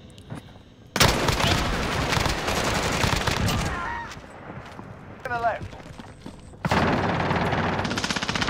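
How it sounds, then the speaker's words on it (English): Loud, close automatic gunfire in the Warzone video game: a long sustained burst, a quieter stretch with faint sounds, then another heavy burst of rapid shots. "Shooting my gun."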